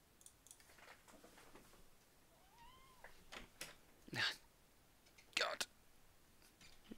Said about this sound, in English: Just got to let the cat out.